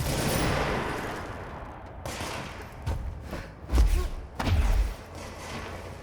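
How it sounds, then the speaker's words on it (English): Enemies open fire in the Control video game: ragged bursts of gunshots and heavy thuds, a dense volley at the start, then scattered louder bangs spaced out over several seconds. "Who is firing at me?"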